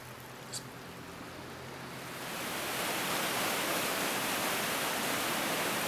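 Floodwater from the small Striegis river rushing through its channelled riverbed in Hainichen, a loud, dense, continuous roar that grows fuller after the first couple of seconds, with no voices.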